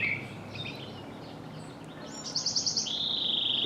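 Several songbirds, a robin among them, chirp outdoors at mid distance, with one bird giving a quick run of about seven sharp, evenly spaced notes near the end.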